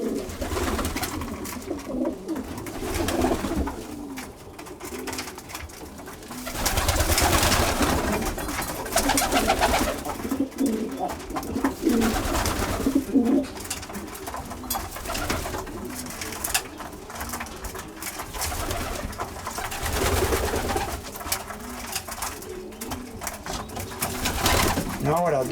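Pigeons coo continuously inside a loft, overlapping soft throaty calls with rustling and shuffling throughout, fairly close and steady.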